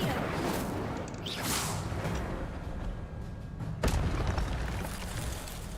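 A fiery Incendio spell cast in the wizarding game Hogwarts Legacy gives whooshing bursts and a sharper crash near the four-second mark, amid continuous game ambience.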